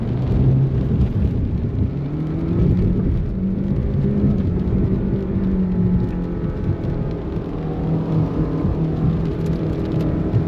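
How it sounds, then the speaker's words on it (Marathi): A car engine drones steadily as it drives hard through deep water that rushes and splashes around the vehicle, loud and continuous with no talking. "जोरात गाडी काढ."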